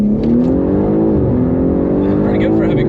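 A BMW G80 M3 with an upgraded engine and all-wheel drive revs hard and climbs steadily in pitch, loud and close, a strong sustained acceleration heard from inside the car.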